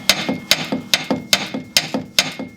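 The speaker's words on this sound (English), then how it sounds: "All we gotta do is put our washer and nut combo back on, tighten it down" A wrench ratchets a washer and nut tight on a snowmobile limiter strap. About eight sharp, evenly spaced clicks sound close up, each with a brief metallic ring.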